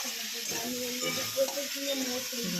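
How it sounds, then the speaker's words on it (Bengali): Pumpkin and potato being stir-fried in a pan for a pumpkin, potato and Malabar spinach dish, a steady sizzle with soft scraping stirs throughout and no talk. "নাড়াচাড়া করে ভেজে নেব"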